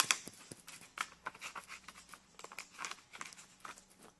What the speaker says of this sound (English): I'm just going to cut open this plastic.